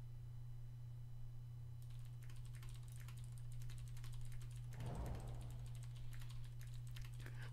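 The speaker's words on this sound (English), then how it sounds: "Wow, you clipped me typing." Rapid typing on a computer keyboard, a steady stream of quiet, close clicks over a constant low electrical hum, with no voices.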